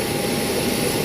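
A former Sriwijaya Air airliner's jet engine at idle power produces a steady, loud broadband roar with a constant whine above it, close by and unbroken, with no voices.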